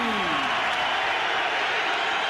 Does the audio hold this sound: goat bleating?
no